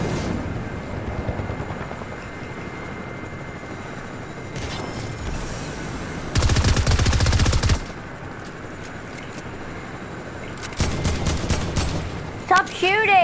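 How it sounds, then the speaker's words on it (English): Automatic gunfire in Fortnite, with two sustained bursts of rapid shots over a steady mechanical drone and background game ambience, loud and near. "Stop shooting!"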